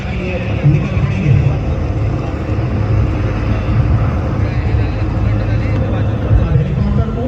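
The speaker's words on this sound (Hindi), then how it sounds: "हेलीकॉप्टर ऊपर की तरफ उड़ान भर रहा है" A navy helicopter climbing with marine commandos at a Navy Day rehearsal in Malvan, Sindhudurg, a steady low engine and rotor drone running throughout beneath an announcer speaking over it.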